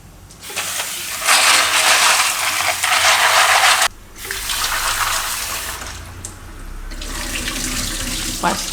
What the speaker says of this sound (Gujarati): તો પાણી ગરમ થાય ત્યાં આપણે આ પાસ્તાને ધોઈ લેવું